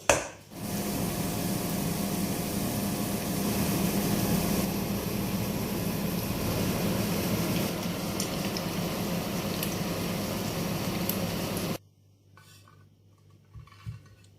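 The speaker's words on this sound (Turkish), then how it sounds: "kızgın yağda istediğim porsiyonlarda soğanlarımı kızartmaya başlayacağım." Portions of onion frying in hot oil, a loud, steady sizzling crackle lasting about twelve seconds before cutting off abruptly to near silence with a couple of faint knocks.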